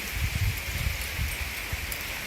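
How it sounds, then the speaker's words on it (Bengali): Hail falls on a balcony in Switzerland, a steady dense patter and rattle of ice hitting the surface, moderately close and unbroken, with no voices. "দেখছি শিলাবৃষ্টি হচ্ছে একদম বাংলাদেশের মতো"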